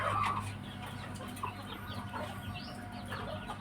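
Hens cluck softly and intermittently nearby, with a low steady hum in the background.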